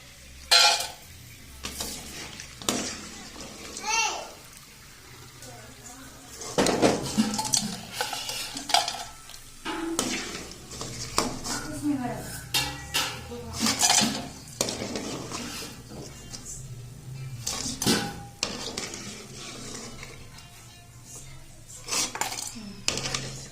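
Fried cassava scooped from a pan into a bowl, with repeated metal scraping, clinks of utensil on cookware and faint sizzling, irregular and close, with occasional talking.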